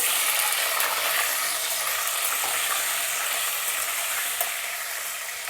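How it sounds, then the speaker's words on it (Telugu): Onions frying in hot oil with fenugreek and mustard seeds: a steady, dense sizzle and crackle close up, continuous and fairly loud throughout. "ఇప్పుడు మనం రెడీ పెట్టుకున్న ఉల్లిపాయలు ఇందులో వేసేయాలి"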